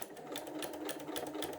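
A sewing machine fitted with a walking foot stitches through quilt layers of fabric and batting, a steady fast mechanical whir with a rhythmic needle pulse, close and continuous.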